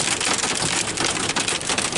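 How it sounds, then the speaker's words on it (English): Hail pelts down outdoors in Napa, California, a dense, continuous hiss of countless small impacts striking the ground, loud and close with no talk over it. "It's getting trashed right now by hail."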